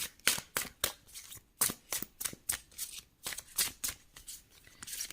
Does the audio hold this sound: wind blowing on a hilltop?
no